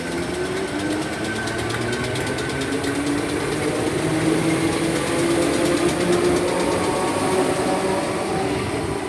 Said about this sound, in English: 1307 Merseyrail service to Liverpool Central from Kirkby